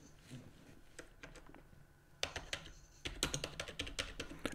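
Typing on a computer keyboard in short bursts of soft key taps. The taps grow quicker and louder toward the end, close by and heard alone.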